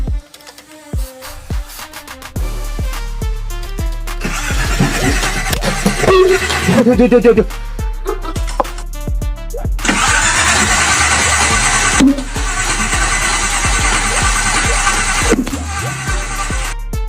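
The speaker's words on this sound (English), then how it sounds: "let's try starting the car" Old four-cylinder classic car, long abandoned and dust-covered, with its starter cranking in repeated bursts before the engine catches and runs loud and close, roaring through revs with no talk over it.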